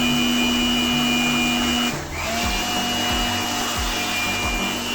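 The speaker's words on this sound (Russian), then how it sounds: "Затем чистим с помощью воздуходувка и щеткой." A steady, loud whooshing air blower drone runs throughout, briefly dipping and resuming, with faint scraping and brushing sounds underneath as dust is cleaned from a Korg Pa3X keyboard.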